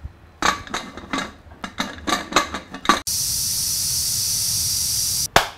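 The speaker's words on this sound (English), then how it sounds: "Covering the pressure cooker." A pressure cooker is fitted with its lid in a home kitchen, with about three seconds of sharp metallic clanks and scrapes, then a loud, steady hiss of escaping steam that cuts off abruptly.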